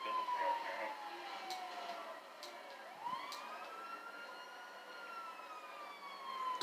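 A siren in the GTA video game wails in long falling and rising sweeps, fairly faint and steady, with some game noise underneath.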